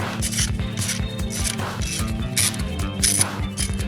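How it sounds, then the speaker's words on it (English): Socket ratchet turning a spark plug out of a 2013 Lexus CT200h hybrid engine: a rapid run of close, crisp clicking in short repeated strokes, loud and alone with no talking. "Now obviously if it's still ratcheting, that means there's resistance."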